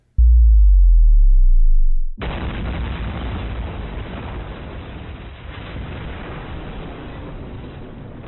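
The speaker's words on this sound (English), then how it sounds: "I reckon we put some sort of bomb sound effect here." A deep, booming low rumble hits first, then gives way to a long, steady hiss of noise like debris settling after a blast.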